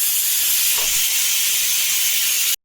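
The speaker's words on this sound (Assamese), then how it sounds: "আনফালে কুকাৰৰ চিটি মাৰিলোঁ" A kitchen pressure cooker with potatoes inside lets off its whistle as a loud, steady rush of hissing steam that holds for about two and a half seconds before cutting off abruptly.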